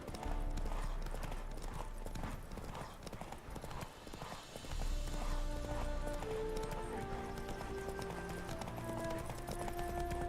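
Rhythmic hoofbeats of a horse sprinting in The Witcher 3: Wild Hunt, steady clip-clop under a dense layer of game music and ambience, with a brief dip midway before the gallop resumes.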